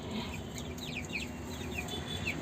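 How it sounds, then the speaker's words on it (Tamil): Chickens cluck and chirp in short bursts over a steady low background hum, nearby and moderately loud, with no one speaking. "கோழிகளே"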